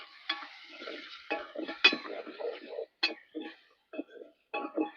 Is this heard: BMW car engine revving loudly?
no